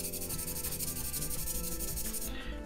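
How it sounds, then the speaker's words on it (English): Close, steady rasping of a sanding stick rubbed back and forth over a small plastic surface of a 1/12 Moderoid Aliens Power Loader model kit in quick, even strokes. "Try to keep the sander nice and flat to the surface."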